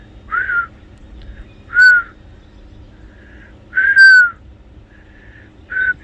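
A person whistles in short, sharp bursts, a handful of separate high whistles spaced a second or two apart, loud and near, with quiet outdoor background between them.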